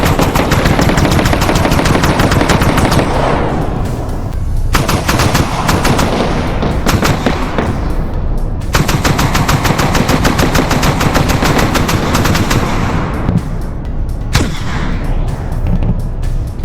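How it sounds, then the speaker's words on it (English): Rapid 30mm machine gun fire in the Minecraft Valkyrien Space War mod, loud sustained bursts of dense rattling shots with brief pauses between volleys, no talking. "These 30mm machine guns take 4 types of ammo."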